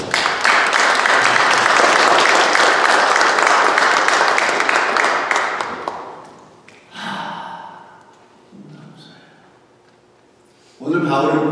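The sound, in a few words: congregation applause for God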